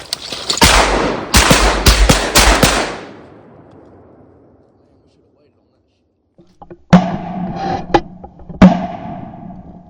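Shotgun blasts during a Mississippi Delta wood duck hunt, a rapid volley of several close, loud shots, then silence before a few more scattered shots, with hunters' voices in between.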